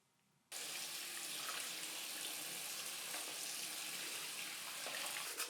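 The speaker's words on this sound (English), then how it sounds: "I highly recommend cleaning the entire bin with soapy water every 6 months." Tap water suddenly gushes on after a brief quiet moment and splashes steadily over a robot vacuum's dustbin being rinsed in a sink, a close, loud, continuous spray with slight shifts as the bin moves.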